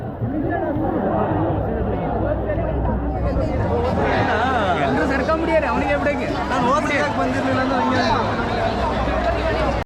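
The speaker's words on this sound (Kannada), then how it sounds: "ನೋಡಿರಲ್ಲ ಕ್ರೌಡ್ ಹೆಂಗಿದೆ ಅಂತ" A huge festival crowd at Rajabeedi Utsava, a dense chatter of many voices with someone speaking close over the hubbub throughout.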